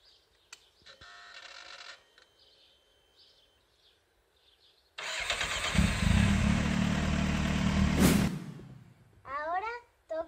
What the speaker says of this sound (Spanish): lo primero que vamos a hacer es arrancar la moto y hay que esperar unos 2 o 3 minutos hasta que se caliente